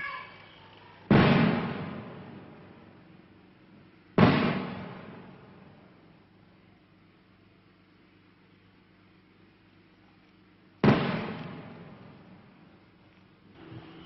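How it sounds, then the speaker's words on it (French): Three loud, distant booms of 105 mm artillery near the Angkor temples, each with a long rolling echo fading away, separated by quiet stretches. "On entend un coup de feu, là."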